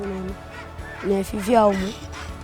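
Fowl in their pens at an animal yard in Makululu, Kabwe, Zambia give nasal honking calls, a short pair at first and then a louder rising run of honks nearby.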